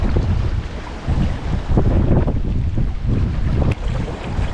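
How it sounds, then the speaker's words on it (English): Strong wind gusts roar across the microphone outdoors on a boat while fishing for crappie with a bobber and live minnows, a steady low buffeting rush with louder surges and no talking. "that wind's a whoop"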